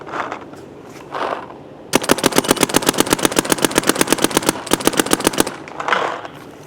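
Rapid bursts of sharp, loud shots from a Planet Eclipse Gtek M170r paintball gun, firing in two long, fast strings with a brief gap between them, framed by quieter background sounds before and after.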